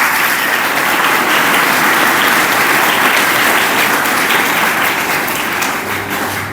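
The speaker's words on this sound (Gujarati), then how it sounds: "એટલે પહેલાં તો તમારી માટે તાળી પાડી જોઈએ કે તમે લોકો આટલો બધો ભાગ લીધો." A large audience of participants at a notebook distribution event claps loudly and continuously. The applause is a thick, unbroken wash of clapping that stays strong for over six seconds and dips slightly at the end, with no voices over it.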